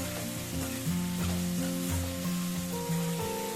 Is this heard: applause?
no